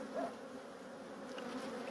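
Honeybees swarm and drone around an open hive during an emergency treatment, a dense, steady buzzing that stays close and unbroken throughout with no voices.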